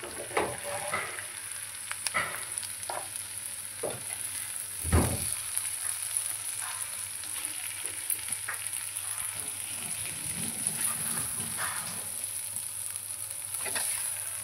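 Chilli chicken sizzles and fries in a hot pan while pieces are scooped out, a steady high frying hiss under repeated scrapes and clacks of a spatula, one louder knock midway, and no voices.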